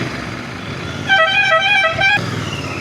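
Vehicle horns honk in a traffic jam on a main highway during a motorcycle ride near Lonavala, with one loud sustained horn blast over steady engine and road noise.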